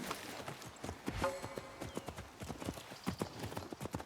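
Horse hooves clip-clop in the video game Assassin's Creed Mirage, a quick, steady, close run of hoofbeats that lasts about four seconds, with a faint snort partway through and no talking.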